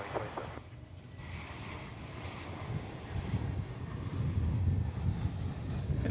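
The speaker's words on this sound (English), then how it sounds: "This is American Flight 2717 coming in from Los Angeles. It's an Airbus A380." An Airbus A380 airliner landing on runway 18 right at Dallas/Fort Worth Airport, its steady broadband engine and air rumble swelling gradually louder as it approaches.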